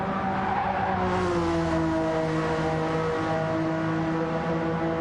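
Race cars in a Gran Turismo-style Gr4 race at Goodwood roar continuously, engines held at high revs with shifting pitch and some tyre squeal, loud and uninterrupted with no voices.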